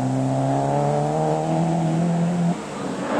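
Audi Quattro rally car engine holding a loud, steady droning note on a 1987 Circuit of Ireland stage, then dropping abruptly as the revs fall near the end, with no talk.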